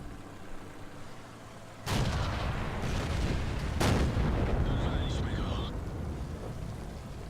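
Tank gunfire in World of Tanks, with the player's T-25 under fire from behind. Two heavy booming impacts land a couple of seconds apart over a constant loud rumble of engine and battle noise, and a short whistling sound follows.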